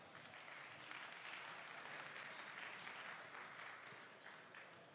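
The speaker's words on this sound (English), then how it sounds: "that clap did not sound pro-caffeinated" Audience applause during a live tech conference stream, a fairly thin, scattered clapping from the crowd that holds steady for about five seconds without a voice over it.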